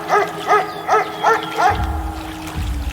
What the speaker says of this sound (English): Playing dog sounds.